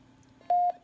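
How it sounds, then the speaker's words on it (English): A TYT 9800 Plus mobile radio with a fault gives a single steady electronic beep of about a fifth of a second when keyed up, loud and clean over a faint background hum. "It just gives me that beep."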